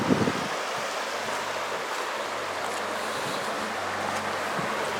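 Water of Oak Creek in Sedona, Arizona, pours over rock ledges in a steady, broad rushing wash, close and continuous, with a little wind buffeting the microphone.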